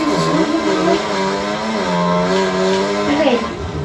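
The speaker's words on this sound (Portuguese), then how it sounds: "A motinha tá perdendo a força." A small motorcycle engine losing power on a motocross track gives a steady, buzzing whine whose pitch wavers and sags, heard loud and close for a few seconds.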